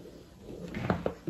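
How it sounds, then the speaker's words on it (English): A soft scraping and crackling as a door drags across carpet, building to a few brief rubbing bursts near the end. "That is the door rubbing up against the carpet."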